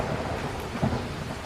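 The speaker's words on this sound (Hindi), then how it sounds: "एक दिन भारी बारिश और तूफान आया।" A thunderstorm with heavy rain: dense, steady rainfall hisses throughout, and a low thunder rumble swells briefly near the middle.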